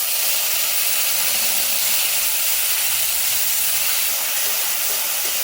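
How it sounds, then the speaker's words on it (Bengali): Whole spices and masala sizzle in hot oil for Bengali hilsa tehari, a steady, even frying hiss that carries close and unbroken throughout. "মশলাটা ভালো করে কষিয়ে নেব।"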